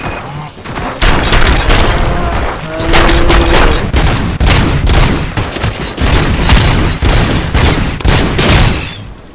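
Gunfire in RoboCop Rogue City, a dense, loud fusillade of rapid shots and booming blasts running almost without a break for several seconds.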